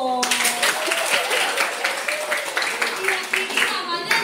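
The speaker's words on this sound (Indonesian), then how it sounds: "betul, tepuk tangan dong" Students in a classroom clap for a classmate's correct answer, a steady patter of hands lasting several seconds with voices mixed in underneath.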